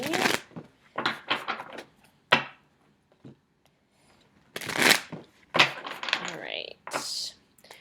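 Cards riffle and snap in several short bursts, close by, with quiet gaps between the shuffles and a voice speaking briefly.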